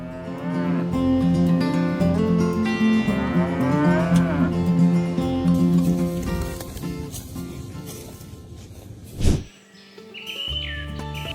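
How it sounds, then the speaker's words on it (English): Belted Galloway cattle moo loudly and close, several long drawn-out lows in succession, with faint bird chirps in the background and a brief sharp knock near the end. "Belted Galloway cattle, often called Oreo cows for their distinctive black and white belt"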